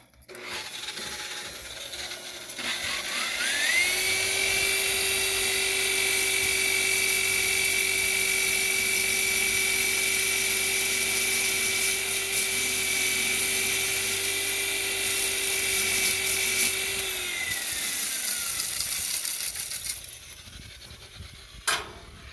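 A rotary buffer spins up and runs steadily, polishing scratches out of a boat's gelcoat. The motor whine is loud and close and holds an even pitch for about fifteen seconds, then winds down with no talking.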